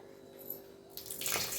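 Water splashes onto rice set to soak for mushroom biryani, a short, soft pour that rises sharply near the end of a quiet moment.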